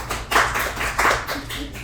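Short burst of audience clapping at a superhero cosplay contest vote, a few uneven bright claps over a low background hum, fairly close and lasting under two seconds.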